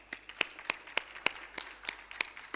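An audience at a plenary session claps in a quiet, evenly paced patter of distinct hand claps, somewhat distant.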